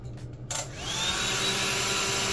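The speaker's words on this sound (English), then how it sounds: "got my hair dryer" A hair dryer switches on with a short burst and settles into a steady, loud whirring blow.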